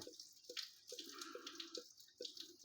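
Coolant dripping and splashing from a Suzuki engine with a lost fitting, as a rhythmic series of close, distinct drips against a steady trickle of liquid.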